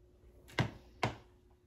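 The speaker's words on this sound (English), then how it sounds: "we're going to be cutting this side off" Scissors cutting off one side of a piece of fabric or paper for a rustic blanket ladder Christmas stocking craft, two sharp close snips about half a second apart, quiet room, no talk.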